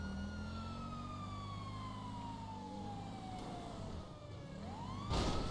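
A police car siren in GTA 5, wailing with slow falling and rising sweeps over a steady engine drone, fairly loud and continuous, with a sudden burst of noise near the end.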